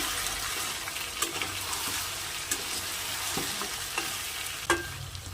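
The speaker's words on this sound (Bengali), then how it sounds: "অল্প অল্প জল দেবো আর মাংসটা কষিয়ে নেবো" Mutton being stir-fried for kasha over high heat in a pan with a little water: a loud continuous sizzle and bubbling, with occasional scraping knocks from a spatula and no talk.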